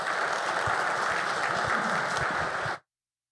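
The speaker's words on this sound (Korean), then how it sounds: "우리 사랑의 마음을 담아 박수로 환영할까요?" A church congregation applauds steadily to welcome a speaker, a dense, even wash of clapping that holds for a few seconds and then stops abruptly.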